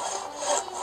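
Saw cutting through wood in the video game Everlight, a short steady rasping stroke, fairly close and alone with no talk.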